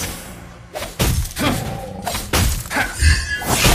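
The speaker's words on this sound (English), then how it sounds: "Your team destroyed the turret." A turret being destroyed in Mobile Legends, heard as a series of heavy shattering crashes and thuds that burst out repeatedly in close succession.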